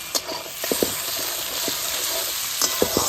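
Spices for a prawn curry frying in a pan with turmeric, salt, cumin and ginger paste, a bright sizzle broken by a few quick spatula scrapes and taps, heard alone.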